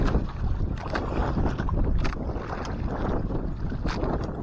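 Large sea waves crash and churn around a small fishing boat at sea, with strong wind buffeting the microphone. There is a continuous loud rushing roar and no talking.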